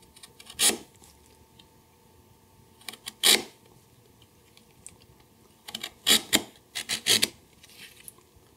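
A crank neck paring chisel pares a wooden miter in several short, crisp scraping strokes, close and isolated, with quiet pauses between cuts.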